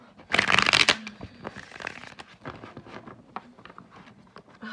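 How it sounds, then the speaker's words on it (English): Tarot cards riffle-shuffled close by in one loud burst, followed by softer scattered card taps and shuffling handling noises. "Let's go ahead and pull some tarot cards and see what the month has in store for you."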